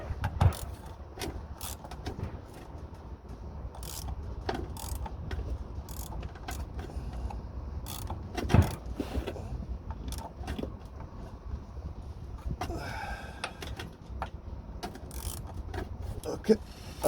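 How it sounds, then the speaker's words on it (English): Ratchet clicking repeatedly while turning gearbox mount bolts on a Matbro 260 telehandler, a series of sharp metallic clicks and clunks at close range over a steady mechanical background hum, with faint talk. "Now I can try with the ratchet."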